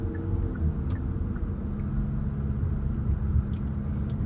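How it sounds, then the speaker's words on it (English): Low, steady engine and road rumble inside a Hyundai Elantra Hybrid Blue driving at low speed, a continuous near drone with no speech over it. "And the engine's really loud too."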